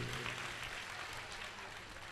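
Audience clapping steadily at a devotional religious gathering honouring donors who fed saints, a dense even wash of applause from many hands throughout.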